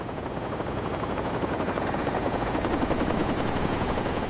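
A military helicopter's rotor thrums continuously in a loud, steady drone over desert, with no voices over it.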